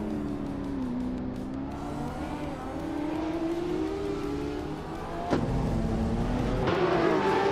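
Supercars race around the Circuit Gilles Villeneuve Retro track in a racing game, engines droning and revving steadily with rising pitch, and a sharp thump as another car surges past close by.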